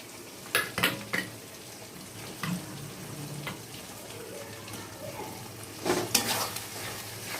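A spice paste of cumin, pepper and tomato fries quietly in a pan, giving a soft sizzle. Spoon scrapes and clinks against the pan come in scattered bursts.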